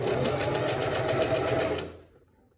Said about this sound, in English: the tricky thing is holding it straight while sewing, while stretching, while using a double needle